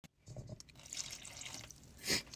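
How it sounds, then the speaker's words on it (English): Half a cup of water is poured into dog treat dough in a home kitchen, giving a soft, splashy trickle that ends in a brief louder gush. "And then the last thing is getting a 1/2 cup of water."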